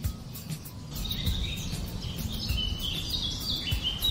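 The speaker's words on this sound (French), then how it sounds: "Les oiseaux chantent doucement." Birds chirp softly over a savanna at sunset in a children's cartoon, a thin, high twittering above a steady low background hum, with no talking.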